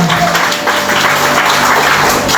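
Congregation applauding in church during a Bisaya worship service: steady, dense clapping fills the short stretch at close range, with a faint organ or keyboard tone held underneath.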